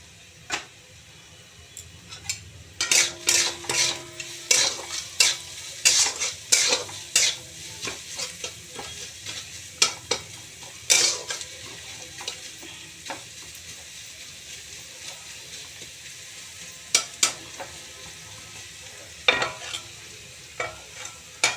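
A pan of food with salt and green chillies just added is stirred while it fries, giving a steady sizzle under repeated scraping and clinking strokes of a spoon. The strokes come in irregular bursts, close and moderately loud, with no talking.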